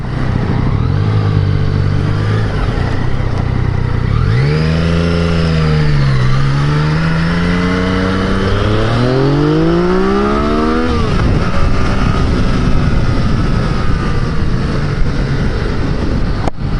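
A Yamaha FZ-09 motorcycle engine revs up through the gears on a test ride. The loud, close drone rises in pitch, drops at a shift, then climbs steeply again before fading into wind rush. Nobody talks.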